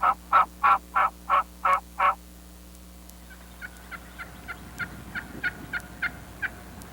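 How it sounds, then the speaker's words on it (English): Five adult wild turkey gobblers about 70 yards away gobble in a fast string of loud, rhythmic calls, then a fainter, more distant run of gobbles follows. "5 adult gobblers at 70 yards, fighting over who will get to you first"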